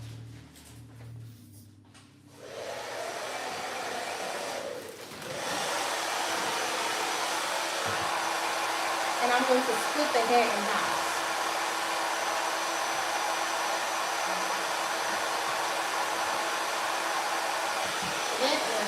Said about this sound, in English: I'm going to hold the nozzle and the blow dryer together right here without putting my hand where the heat is coming